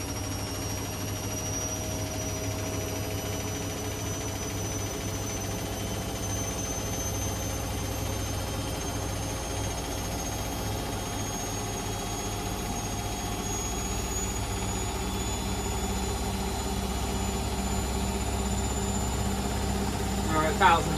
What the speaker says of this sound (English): Indesit's now speeding up to 1000 RPM